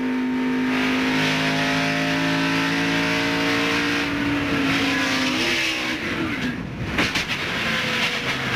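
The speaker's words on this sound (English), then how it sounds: "All right, let's ride along with Craven and listen" Onboard a NASCAR race car during a 1997 race, the engine drones loudly and steadily with a pitch that slowly rises and falls, then a brief rattle and shift in tone near the end, with no voices.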